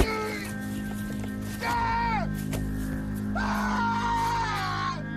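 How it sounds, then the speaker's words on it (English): A man stranded on a deserted island, bleeding and exhausted, screams in anger and frustration. Two drawn-out cries rise and fall, fairly loud and close, with a short gap between them. "Frustrated and exhausted, Chuck screams in anger."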